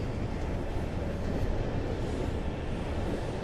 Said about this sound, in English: And this train begins to go so fast that it just enters into this vortex.